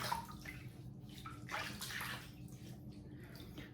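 Faucet water running into a sink while a face is wetted before a shave, a soft steady splashing stream with faint gurgles, quiet and close.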